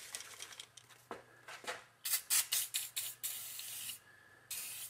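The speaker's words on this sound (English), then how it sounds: "I'm gonna put one more coat of WD-40" WD-40 sprayed onto a rusty axe: a quick series of short close hissing bursts, then a longer sustained spray, a brief pause and one more burst.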